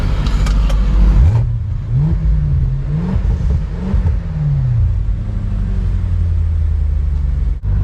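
A Range Rover with the 4.4-litre V8 and a QuickSilver Sound Arch exhaust revs loudly and close by, its engine note climbing and falling in several swells over a steady low rumble, with no talking.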